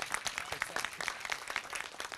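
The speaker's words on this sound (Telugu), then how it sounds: "క్లాప్స్ కొట్టండి కదా ఒకసారి కిషోర్ అన్నకి" An audience at a film premiere show claps for actor Kishore, a short burst of dense, steady applause from a crowd.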